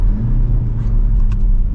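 A 2024 BMW X1 M35i driving, with a steady, loud low engine and road rumble that swells slightly as it accelerates through a turn, heard without talk.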